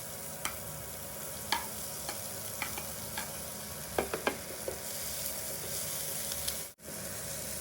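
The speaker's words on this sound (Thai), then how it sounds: "ส่วนพวกเรานะคะนำไส้กรอกมาผัดเพิ่มเพื่อเพิ่มสีสันให้กับอาหารของเรา" Sausage stir-frying in a pan for spaghetti carbonara with onion: a constant loud sizzle with sharp spatula clicks and scrapes at irregular moments, close and without voices.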